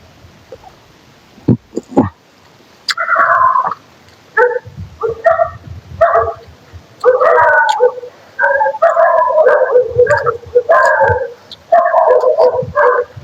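Dog howling and yelping in a long series of wavering, drawn-out cries with short breaks between, close and loud, after a few sharp knocks at the start.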